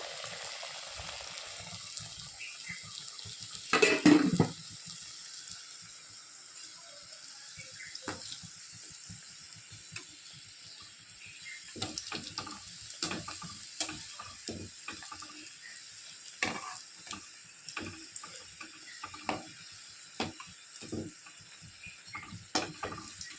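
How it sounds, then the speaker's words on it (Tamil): Onion samosas slid one by one into hot oil in a kadai: a quiet start, a sharp loud splash and hiss as one drops in, then scattered intermittent bubbling pops and crackles. "இப்போ ஒரு ஒரு சமோசாவாக எடுத்து எண்ணெயில் போட்டு பொறிச்சு எடுக்க வேண்டியதான்"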